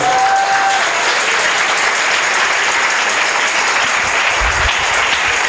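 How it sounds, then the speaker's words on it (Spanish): A congregation at a church testimony service claps loudly and continuously, a dense wash of applause filling the space from start to finish. "Denle un aplauso al Señor de los cielos."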